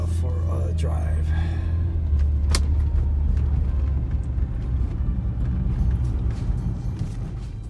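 Steady low engine and road rumble from a 2009-2014 Nissan Murano out on a drive after a coolant hose was refitted following an overheating fault, heard from inside the cabin as a continuous drone with faint clicks and rattles.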